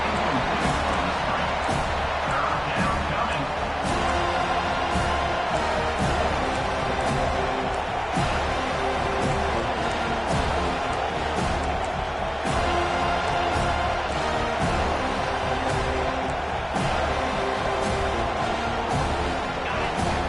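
A home stadium crowd roars steadily through a football game as the defense tries to get off the field on third down, a dense, continuous wall of cheering that holds at one level throughout, with occasional sharper swells and thuds in the mix.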